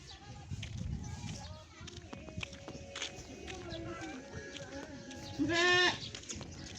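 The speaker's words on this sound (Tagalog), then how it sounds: "Kambing yata yan." A goat gives one loud, wavering bleat near the end, after a stretch of footsteps, shuffling and faint background voices outdoors by a church in Camarines Sur, Philippines.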